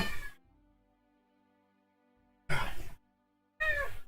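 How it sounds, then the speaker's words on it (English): A ragdoll cat gives two loud, drawn-out squealing meows in the background, following a short earlier cry, with quiet gaps between the calls. "I also still have my cat squealing away in the background."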